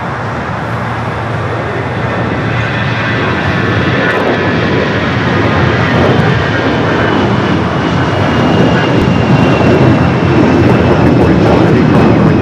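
An airliner taxiing and crossing a runway at LAX produces a loud, steady jet engine roar with a continuous broadband rumble and a faint high whine, sustained throughout.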